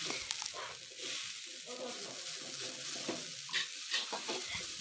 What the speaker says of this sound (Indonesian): Panaskan sedikit minyak, lalu kita masukkan kelapa yang tadi sudah kita campur dengan bumbu yang untuk membuat serundeng ya.